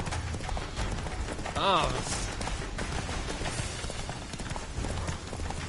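The horse Roach galloping in The Witcher 3, a fast rhythmic clip-clop of hooves that runs continuously at a moderate level, with a brief exclamation from a voice over it.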